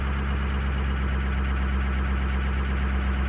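Diesel truck engine idling steadily after a cold start, a continuous low droning rumble with a constant hum, close and fairly loud, with no talk over it.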